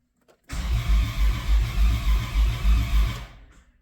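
Starter cranking the engine of a 1991 Dodge Grand Caravan SE that has long sat unused, a loud, even rhythmic churn of about eight pulses that stops without the engine catching, close and with no talking.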